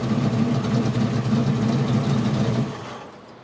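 A 1941 Chevrolet pickup truck engine idles nearby with a steady low rumble and a fast even throb, then drops away sharply near the end as it shuts off; no talking.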